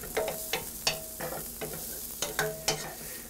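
Crushed garlic cooks in Italian sausage meat in a pan, with a soft sizzle under repeated scraping strokes of a spoon or spatula, close and fairly quiet.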